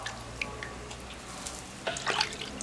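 Beef tripe being rinsed in water, with soft drips and splashes scattered through a faint background, then a brief burst of sloshing near the end.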